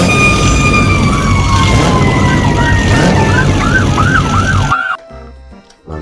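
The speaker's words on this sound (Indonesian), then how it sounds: "Wow, ini ada mobil pemadam kebakaran." A toy fire truck's electronic siren wails loud and close in a steady up-and-down sweep, with a warbling pattern toward the end before cutting off abruptly, followed by brief handling clicks.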